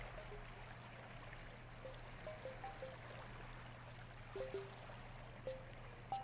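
Soft, steady watery wash, like a gentle stream, while walking across water in the indie exploration game Proteus, with faint tonal chimes and little plinks dotted through it at a low, calm level.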